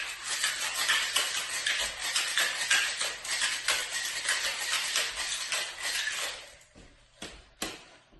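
A Sidecar cocktail being shaken hard in a cocktail shaker, ice rattling in a steady rapid rhythm up close for several seconds, then slowing to a few last separate knocks.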